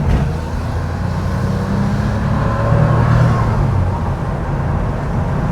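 A 1988 Porsche 911 engine revving at full throttle and then backing off: a loud, close, low mechanical drone that swells around the middle and settles again, heard alone.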